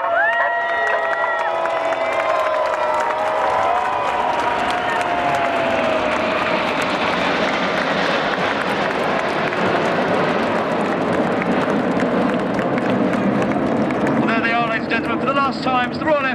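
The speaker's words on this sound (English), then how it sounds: "a big cheer when the coloured smoke comes on" Air show crowd at Sunderland cheering and applauding as the Red Arrows aerobatic team switch on their coloured smoke, a broad sustained roar of many voices with wind buffeting the microphone and a public address voice mixed in.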